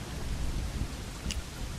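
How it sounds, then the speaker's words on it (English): Thunderstorm with steady rain in the Assassin's Creed Rogue video game, a continuous low rumbling wash of rain and thunder at moderate level with no talking. "Whoa, there's a storm."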